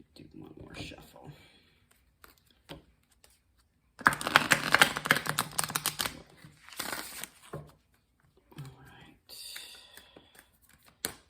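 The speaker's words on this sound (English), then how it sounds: "Do one more shuffle." Tarot cards from a Spirit Animal Oracle deck being shuffled, a dense crisp riffling burst of paper flicks that stands out briefly between stretches of quiet talk.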